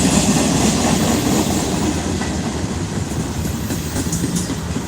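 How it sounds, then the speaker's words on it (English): A very long train rolls past at night, a loud continuous rumble with steady clickety-clack of wheels on rails, close by and filling the scene with no voices. "This is a really long train"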